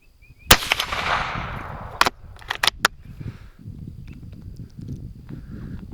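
A rifle fires at a target 30 yards away: one sharp loud crack followed by a few quicker, smaller snaps, then low rustling and handling noise in a quiet outdoor night setting.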